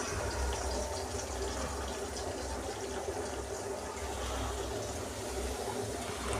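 Soaked tamarind water dissolved and poured into a simmering fish curry, a steady continuous liquid pouring and splashing sound, close and moderately loud, with no talking.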